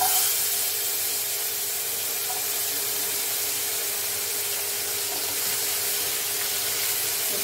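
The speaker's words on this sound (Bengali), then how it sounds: "এবার এই যে ডুমো ডুমো করা আলুটা আছে, এই আলুটাকে দিয়ে দেবো।" Diced potatoes dropped into hot oil in a pan, giving a steady, loud, hissing sizzle that holds evenly throughout without a break, close by and with no voices.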